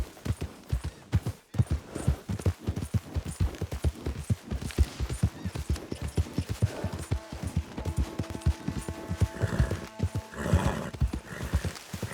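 Horse hooves clip-clop at a steady gallop in Red Dead Redemption 2, with a loud whinny breaking out near the end over a layer of game ambience.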